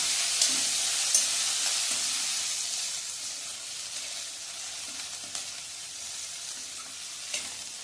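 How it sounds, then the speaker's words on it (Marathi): Chopped onion sautés in a pan for idli upma, giving a continuous close sizzle and hiss with occasional light taps and scrapes of a spoon stirring, no voices. "आता हा कांदा छान परतून घ्यायचा"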